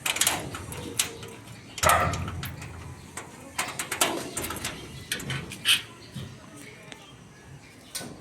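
Pigeons coo softly nearby while being fed, amid scattered clicks, rustles and knocks, with a person speaking intermittently in the background.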